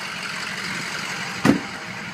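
A 2006 Ford F250 with the 6.0 diesel idles quietly as a steady low hum, with a brief soft thump or click partway through.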